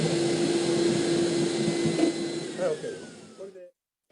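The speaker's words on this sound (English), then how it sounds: "This is where the vacuum cleaner comes into play." A vacuum cleaner draws water out of a wet page of an old paper document during restoration, a steady close whine with a faint tonal hum that wavers, then cuts off near the end.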